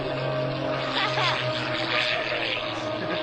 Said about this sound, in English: Straight up pitch the airplane there, roll right there.